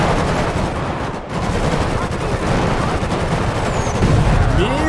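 Minigun and gang gunfire in the video game GTA V form a dense, loud, continuous roar of rapid shots with no breaks, while voices talk over it.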